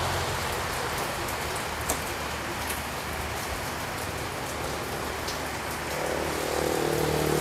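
Rain falls steadily outside a motorbike shop in Kiên Giang, Vietnam, a constant soft hiss of drops with a few small taps, even and moderately loud from start to finish, with no talking.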